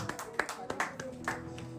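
Congregation applause welcoming the preacher at a church service, several bursts of hand claps blending with voices and room murmur over a short stretch.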